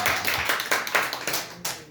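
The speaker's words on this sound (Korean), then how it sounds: "박수 한번 쳐주시기 바랍니다." Congregation clapping at a Sunday afternoon service in a Korean church, with a run of sharp, fairly close claps in loose rhythm that fade and return, and a brief voice partly heard beneath them.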